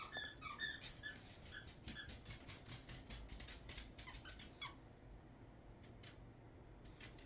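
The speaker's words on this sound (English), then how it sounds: "I usually take a knife and stab the little squeaker thing so it stops squeaking" Fast, high-pitched squeaks from a squeaky dog toy being chewed come in dense bursts for about five seconds, then thin out to a few scattered squeaks against a quiet background.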